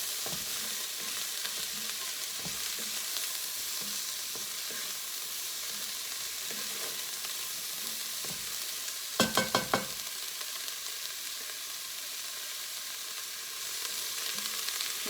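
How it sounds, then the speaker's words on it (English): Bell pepper, jalapeno and celery searing in a pan, giving a steady soft sizzle with occasional stirring knocks and a brief cluster of sharp clicks midway, no voices. "all of that goes in. And we're going to sear that down."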